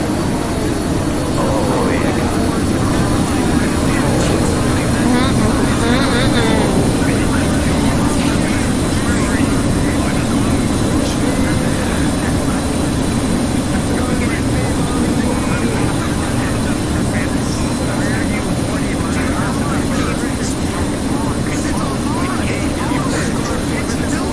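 Large aircraft flying in a VRChat virtual airshow, a steady loud engine roar and drone that holds for the whole stretch, with rushing broadband noise and no break.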